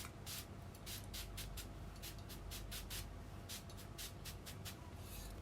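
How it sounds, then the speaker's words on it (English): Short repeated hisses of a facial mist spray bottle being spritzed onto a face, about a dozen quick bursts in irregular rhythm over steady low background hum, close and moderately loud. "I'm just spraying my face with a little bit of facial mist"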